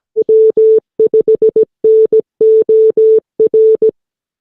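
Morse code call sign W5NOR sent as a clear, loud single-pitch tone in crisp dits and dahs, evenly spaced groups with short gaps, alone with no talk.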